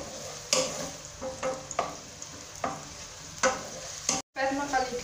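Chopped onion fries in a pan before chicken liver goes in, hissing softly between sharp scraping stir strokes that come in irregular bursts, close and fairly loud.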